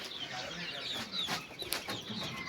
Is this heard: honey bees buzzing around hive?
no